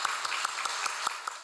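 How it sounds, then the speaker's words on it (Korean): Light applause for a baptism ceremony, heard as a faint, regular series of hand claps repeating about every fifth of a second over a soft background wash. "축하의 박수 부탁드리겠습니다."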